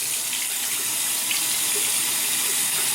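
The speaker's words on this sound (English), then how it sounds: "We're going to use some warm water on the brush" Warm water runs steadily from a tap onto a shaving brush held under the stream, producing a constant, close splashing hiss with no talking.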